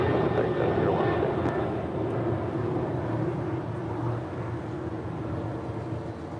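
An airliner's engines roar loudly and continuously during takeoff at LAX, a broad heavy rumble that slowly fades as the aircraft moves away.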